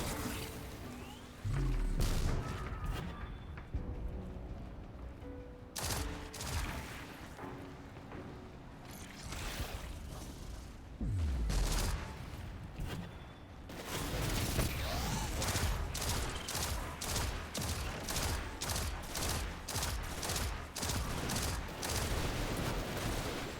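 Rapid gunfire from the Destiny 2 shooter game, with bursts of loud repeated shots, heavy booms and mechanical clatter through the middle and a dense stretch of continuous firing near the end.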